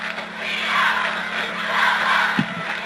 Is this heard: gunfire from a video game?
no